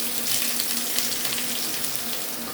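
Potatoes and drumstick leaves fry in a pan for a rohu fish curry, giving a steady, close, continuous sizzle and hiss with no talking.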